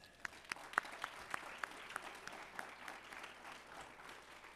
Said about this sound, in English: So let's give Hertha another round of applause